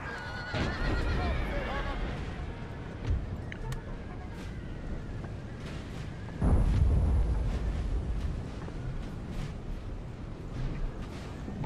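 Light cavalry horses in Napoleon: Total War whinny and neigh amid a dense battlefield din of rumbling gunfire, with hoof clatter and a loud blast partway through.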